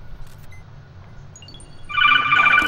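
Shrill, alarm-like phone ringing in Metal Gear Solid 2 breaks in partway through as a loud, rapid trilling burst over a faint game background.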